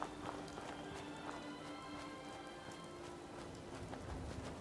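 Steady rain in the Fallout video game, a dense, even hiss of drops pattering on surfaces, continuous and moderately loud with no voices over it.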